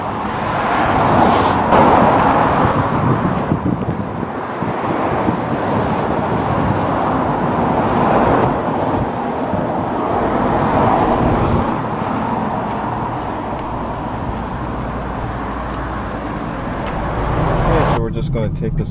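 A 2012 Kia Cee'd TX hatchback with a 1.4 MPI petrol engine drives steadily along back roads, a continuous engine and road-noise drone that rises and eases slightly throughout.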